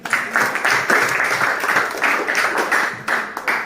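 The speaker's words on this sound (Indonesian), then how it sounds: "Oke, kita berikan aplaus untuk" A classroom group applauds with steady, dense clapping that continues without pause, fairly loud and close, with no other sound on top.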